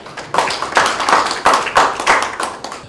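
Audience at a food-tech industry technology exchange seminar clapping to welcome a speaker, a close, steady run of rhythmic hand claps with a few prominent louder strikes.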